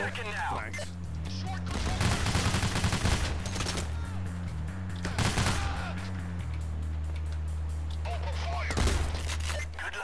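Rapid bursts of gunfire in the heist shooter Payday: The Heist, with dense automatic volleys and sharp shots layered over a steady low game drone, while players talk over the action.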